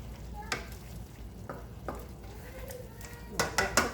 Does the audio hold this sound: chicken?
yes